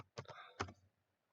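A few quick keystrokes on a computer keyboard while a password is entered on an Ubuntu 20.04 Linux machine: two short, close clicking bursts, then quiet.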